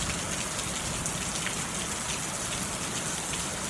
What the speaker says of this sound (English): The rain can be a beautiful thing.